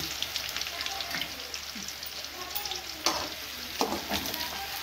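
Garlic and dried coconut frying in oil in a pan, a crackling, rain-like sizzle with spatula scrapes and a couple of sharper clacks, close and steady with no talking.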